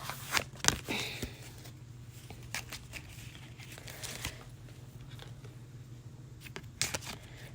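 Tarot cards shuffle quietly at close range in brief riffles and soft slides, with short bursts separated by quiet pauses.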